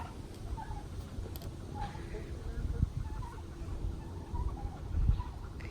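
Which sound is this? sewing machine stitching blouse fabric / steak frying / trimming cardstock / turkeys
turkeys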